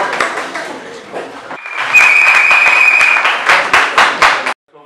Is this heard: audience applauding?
yes